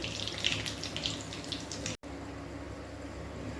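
Bay leaf and black cumin tempering in hot oil, a steady close broadband sizzle with a short break near the middle, continuing evenly afterward.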